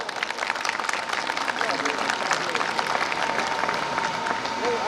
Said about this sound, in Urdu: جو سٹیج پہ جلوہ افروز ہے، ان کے لیے تالیاں بجا دیں